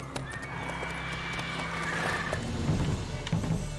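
Horse Roach in The Witcher 3 game gives a clear whinny over steady hoof clip-clops, with a second shorter neigh toward the end, moderately close and without talk.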